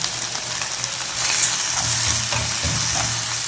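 Cumin seeds sizzling in hot oil for a Tamil potato dal, a steady, close frying hiss that thickens and grows louder partway through, with faint stirring underneath and no voices.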